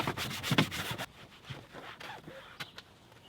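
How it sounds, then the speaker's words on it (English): An upholstery brush scrubs a car door panel, giving quick, close bristly rubbing strokes for about a second, then fainter scattered brushing and handling sounds. "Get our upholstery brush."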